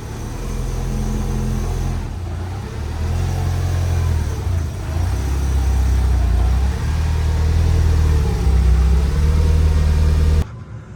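A Mitsubishi Evo 9 engine in the snow in winter cold, starting and then running: a loud, close engine note that rises and settles into a steady idle with small rev swells, cutting off abruptly near the end.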